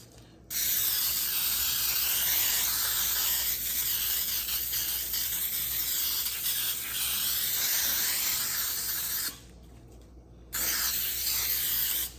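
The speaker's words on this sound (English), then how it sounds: "to spray a 9 by 11 pan, that's what we have here, with some baking spray." An aerosol can of baking spray sprays into a cake pan in a long continuous hiss, pauses for about a second, then sprays again briefly, close and fairly loud.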